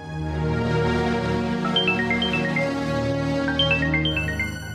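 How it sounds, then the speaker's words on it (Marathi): A loud electronic phone ringtone plays a repeating melodic jingle, steady and close, with no talking. "गौतम सरांचा फोन"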